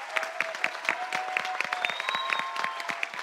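A studio audience claps for a band on a Spanish television music competition, with dense, steady applause in a quick even patter, moderately close.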